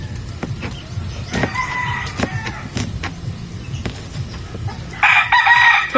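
Rooster crowing on a farm, with a few loud clucks and crows near the start and a strong crow at the end over busy background sounds and faint talk.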